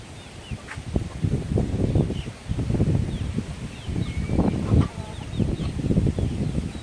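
Chickens clucking and chirping in short bursts close by, with rustling and scattered activity around them, over a steady outdoor breeze.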